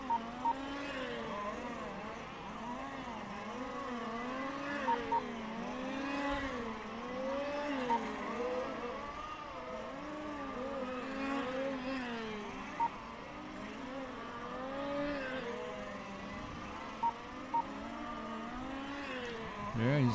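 Race cars, including a Porsche in Red Bull livery, roar around a circuit, their engines rising and falling as they pass near and far, with a commentator talking over the steady motor drone throughout.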